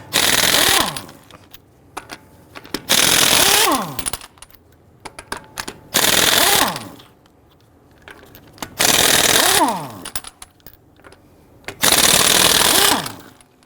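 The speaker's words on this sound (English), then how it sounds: "Using a 19mm socket, loosen and remove your lug nuts." Five bursts of a 19mm socket wrench working lug nuts loose on a 2011-2019 Ford Explorer front wheel, each a dense rattling spell of a second or so with quiet gaps between, close and fairly loud.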